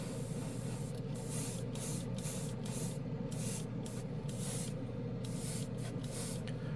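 Alclad chrome lacquer sprayed from an airbrush onto a plastic scale model, a steady close hiss with repeated short bursts as the trigger is pressed and released, heavier passes toward the end.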